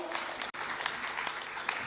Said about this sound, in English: Let's welcome him with a round of applause.